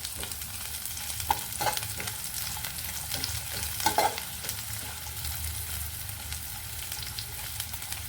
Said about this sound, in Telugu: ఇంకా కొంచెం రోస్ట్గా బ్రౌన్ కలర్ వచ్చేయాలండి